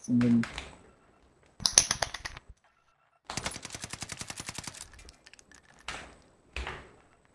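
Call of Duty Vanguard gunfire on the Fortune's Keep map comes in broken bursts, with a few sharp single shots, then a fast rattling automatic burst. A later brief shot or two follows, and a faint voice can be heard.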